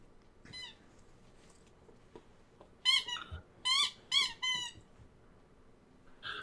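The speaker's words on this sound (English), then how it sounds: "it is the puppy going to town on his hamburger toy" A puppy chews a hamburger-shaped squeaky toy, giving one short squeak and then a cluster of four loud, high, wavering squeals in quick succession, with soft rustling between them.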